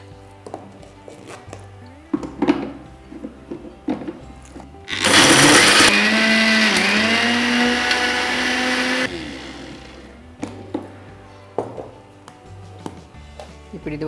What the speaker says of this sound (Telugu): ఇప్పుడు దీన్ని మళ్ళీ ఒక్కసారి మనం మిక్సీలో వేసుకుంటే జార్లో మొత్తం మిక్స్ అయిపోతుంది